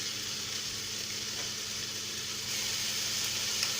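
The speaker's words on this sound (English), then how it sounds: "while things are sizzling away" Steady, soft sizzling of food frying in a pan, a continuous hiss with a faint low hum underneath.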